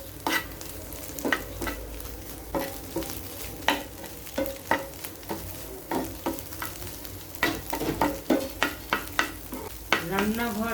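Chanda fish with cham grass frying in a pan, a steady sizzle under repeated scraping stirs of a spatula, close and moderately loud with no talking.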